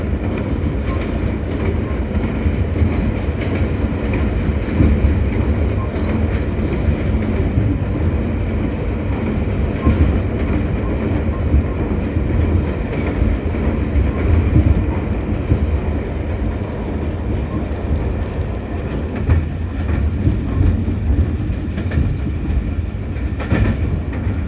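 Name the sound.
Shalimar Express train running toward Bholari bridge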